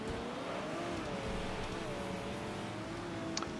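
Car engine droning steadily while driving in the racing game Next Car Game, a continuous mid-pitched motor hum with slight pitch wavering and a short tire-like chirp near the end, loud and constant.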